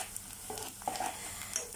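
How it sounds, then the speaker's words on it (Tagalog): Garlic and onion sauté in a pan for chicken heart adobo, giving a soft steady sizzle with a few light stirring scrapes over under two seconds. "Sinasangkot ko pa yung bawang."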